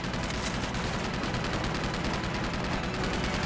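Rapid, sustained bursts from a mounted machine gun in Uncharted 2 rattle at a steady rhythm and constant loudness, close and unbroken, with no voices over them.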